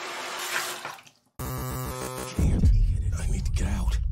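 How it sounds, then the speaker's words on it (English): A toilet in the game Observer flushes after a short watery gurgle, breaking into a loud, rushing swirl of draining water that continues to the end, close and full. "Flush my problems away."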